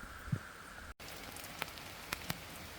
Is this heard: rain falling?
yes